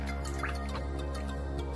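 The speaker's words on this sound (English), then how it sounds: "You make sure you give it a good rinse." Water drains and drips steadily while cut potatoes for fries are rinsed, a close, continuous trickle with small splashes throughout and no talking.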